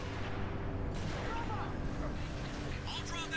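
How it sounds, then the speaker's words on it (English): Rapid turret gunfire and booming impacts roll on continuously during a Halo: The Master Chief Collection match, dense and rumbling beneath game noise and a voice speaking. "I'll draw that turret's fire."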